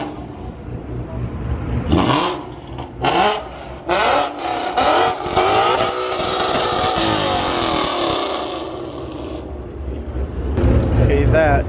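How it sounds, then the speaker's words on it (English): A 2020 Ford Shelby GT500 at a car meet revs loudly and close by, with repeated roaring bursts rising into a long sustained howl, while people talk underneath. "that is the loudest car so far"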